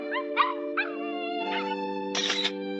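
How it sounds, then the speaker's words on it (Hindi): A cartoon dog howls and whimpers in several short, wavering cries over a steady tonal music bed, ending in a louder, longer howl. "अभी मैंने एक डॉग की आवाज सुनी"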